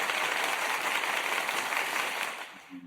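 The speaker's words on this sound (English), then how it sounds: "I gotta give you an applause." Broad, continuous wash of applause holds steady at moderate level for nearly three seconds before tapering off at the end, with no talking over it.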